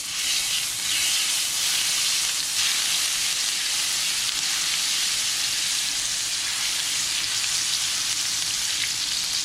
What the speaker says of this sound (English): All right, so my oil is hot. First thing I'm gonna do, I'm gonna add some garlic paste.